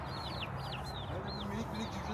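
Chickens clucking outdoors with short chirpy calls repeating over a steady background hum, fairly faint, while people talk nearby.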